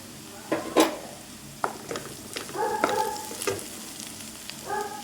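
Crushed chicken sizzles and fries with onions in a pan, a steady close-up crackle punctuated by several sharp scrapes and clinks of a utensil stirring against the pan.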